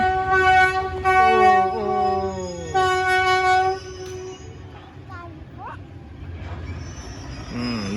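A train horn blares in long, loud, harmonic blasts, sounding twice over rumbling rail noise near the bridge over the River Kwai, then fades as the train rolls on.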